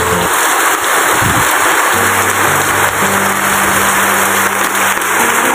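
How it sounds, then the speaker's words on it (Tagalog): Loud, dense rain pours steadily, a continuous heavy hiss of drops hitting surfaces, close and unbroken throughout, while balut and penoy are sold outdoors. "Lakas ng ulan guys, hindi natin makasila ng ganito"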